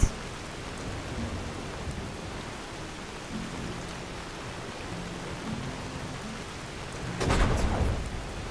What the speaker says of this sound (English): The rain is just driving me crazy.